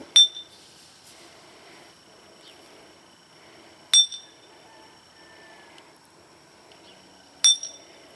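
A tactical flashlight's glass-breaker tip strikes a glass bottle outdoors by a dumpster: three sharp, bright clinks spaced a few seconds apart, each ringing briefly before fading into quiet background.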